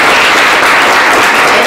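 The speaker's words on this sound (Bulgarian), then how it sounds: "Аплодисменти за Дария!" Audience applause at a fourth-grade class graduation celebration in a school hall: dense, steady clapping from many hands fills the whole stretch at an even, loud level.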